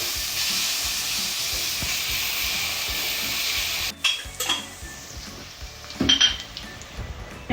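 Chicken keema with turmeric and salt is stirred in a hot pan, first a steady sizzle, then a metal spoon scraping and clinking against the pan in irregular close strokes.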